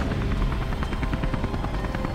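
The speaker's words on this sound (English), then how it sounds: "Can't get close to that helicopter." Helicopter in the video game Beyond: Two Souls, a loud, steady rotor thump and engine drone with regular chopping pulses filling the whole moment.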